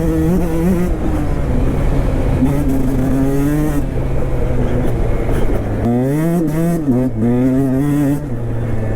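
A KTM SX 125 two-stroke dirt bike fitted with a 14-tooth sprocket revs loudly and close, its buzzing engine pitch climbing and dropping as the throttle works through gears.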